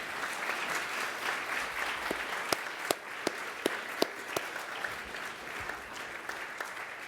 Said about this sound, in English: So, big round of applause for all of these reviewers.